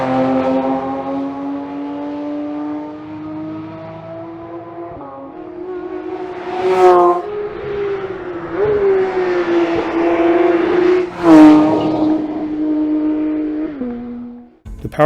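A 2022 Porsche 911 GT3 with a 7-speed PDK gearbox drives with a loud, high-pitched engine note that holds steady, then swells twice as the revs climb and fall away, with no talk.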